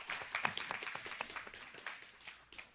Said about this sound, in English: let's give the first teacher a round of applause.